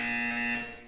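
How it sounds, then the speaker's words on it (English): A loud, steady electronic buzzer from the video game Portal 2 drones as one continuous tone for about a second, then fades slightly at the end. "When you hear the buzzer, look up at the ceiling"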